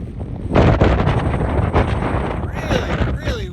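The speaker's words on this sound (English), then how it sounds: "Woke up to a pretty windy morning here at camp." Strong wind at a campsite on the way to Crater Lake, roaring in loud, gusty bursts that buffet the microphone, with a voice briefly heard near the end.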